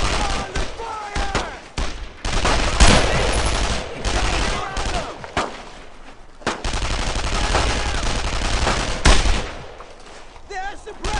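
Heavy WWII gunfire in the video game Brothers in Arms: Road to Hill 30, rapid rifle and machine-gun bursts crackling loudly and continuously, with shouted voices between volleys.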